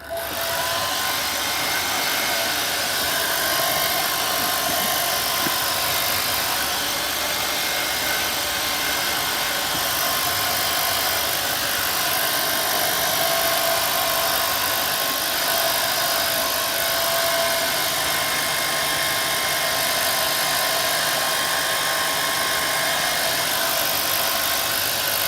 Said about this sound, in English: just dry it with a hairdryer